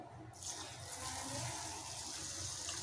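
Water gushes and splashes steadily into a container of rice being washed, starting abruptly after a brief pause and continuing close and constant.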